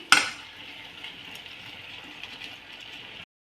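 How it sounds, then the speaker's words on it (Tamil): Chopped beetroot is stirred and sautéed in a hot pan: a brief clatter of the spoon, then a steady, moderately loud sizzling hiss that runs on until it stops abruptly. "எல்லாத்தையும் சேர்த்து ஒன்றா கலந்து விட்டு வதக்கி விடணும்"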